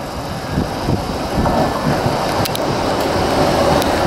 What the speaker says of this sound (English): It's my train on to Leeds.